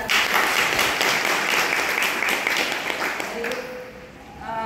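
Mothers and parents at a school parents' meeting give a loud round of applause, dense clapping that holds steady and then gradually fades, with a voice starting up near the end.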